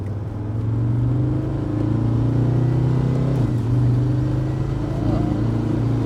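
Mercedes W126 300SD diesel on a rainy road test, a steady low engine drone inside the car with a pitch change as the transmission is shifted manually partway through.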